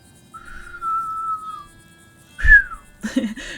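Someone manages a single long, thin whistled note, then a second shorter, falling whistle. A puff of breath comes between them and a brief vocal sound follows, all close and clear.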